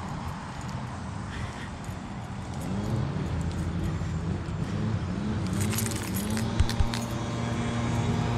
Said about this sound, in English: Sorry if y'all hear my keys jingling, I'm holding my keys while I'm walking.